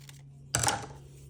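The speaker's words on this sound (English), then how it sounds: "So I'm going to go ahead and cut here." A single crisp snip of scissors through paper while cutting out a notan design, one short close cut over a faint steady hum.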